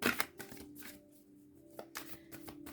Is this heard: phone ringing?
no